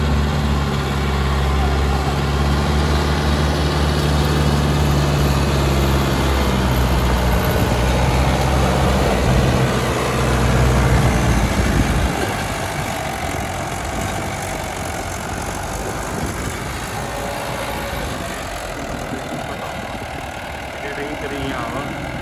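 A Mahindra 595 tractor pulling a loaded trolley, its loud low diesel drone steady for about twelve seconds, then easing to a lower, rougher rumble, with voices talking over it.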